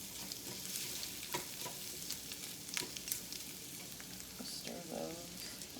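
Shrimp pieces cooking in a pan, a soft continuous sizzle with scattered pops and scraping stir sounds, quiet and close.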